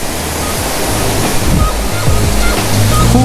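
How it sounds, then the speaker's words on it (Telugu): A 102-foot waterfall rushes off to one side, a broad steady roar of water mixed with wind buffeting the microphone, fairly loud throughout. "The water fall on the side."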